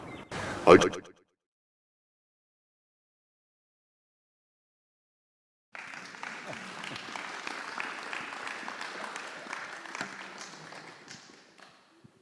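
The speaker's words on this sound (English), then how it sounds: "A round of applause probably suggests that you enjoyed watching that." After a short thump and a long silence, an audience breaks into sustained applause, dense clapping that continues for several seconds before fading out.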